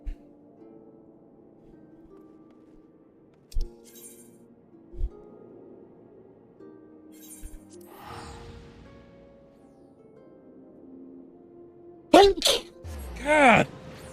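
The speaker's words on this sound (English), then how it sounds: "Sneezes" A person sneezes loudly and close up near the end, a sharp burst with a second blast right after, following quieter stretches with scattered small knocks and a faint voice.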